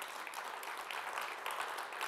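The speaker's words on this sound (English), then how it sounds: "Can we give ourselves a round of applause" An audience at a faith conference applauds itself, a soft, dense wash of many hands clapping, heard faint and somewhat distant, steady for the whole stretch.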